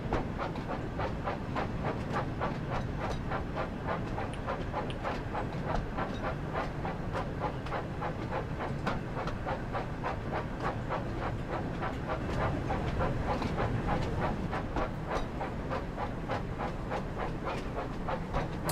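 A locomotive in the Thomas & Friends: Wonders of Sodor game shunts wagons with a steady mechanical chug and rhythmic clicking, loud and continuous throughout with no talk.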